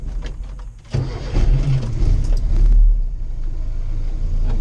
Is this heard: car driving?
yes